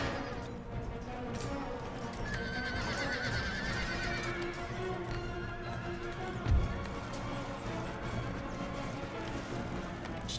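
Cavalry horses in Empire Total War neigh loudly once early on, over a continuous mass of galloping hoofbeats and battle din, with a single heavy thud partway through.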